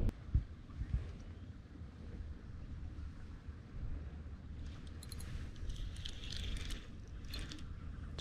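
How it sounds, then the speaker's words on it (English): Strong wind gusts buffet the microphone during fall fishing on a lake, a low rumbling roar that carries throughout, with faint splashes and rattles higher up. "So windy, I'm getting blown all over the place."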